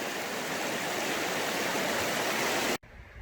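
River water flowing during a winter bushcraft outing, a loud, dense, continuous rush close by that cuts off abruptly near the end, leaving quieter background.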